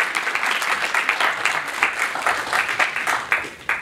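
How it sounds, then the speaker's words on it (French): An audience applauds to welcome a speaker at an employment forum, a dense, even burst of many hands clapping, close and sustained without a break. "j'aimerais que vous l'applaudissiez et que vous l'aidiez à nous rejoindre"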